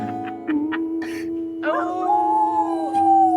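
A dog lets out a sustained, tonal howl holding a steady pitch, preceded by short yips, with brief human vocal sounds mixed in nearby.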